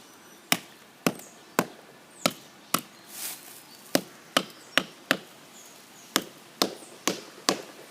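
Sharp knocks on tree wood ring out one after another at a steady, unhurried pace, crisp and close, with a faint rustle in between.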